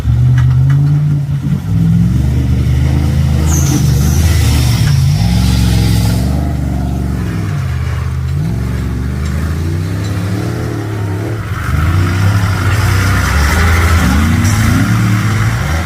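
A truck engine, in a rally setting, revs steadily and loudly for the whole stretch, with the pitch rising and falling through repeated throttle blips and no talk over it.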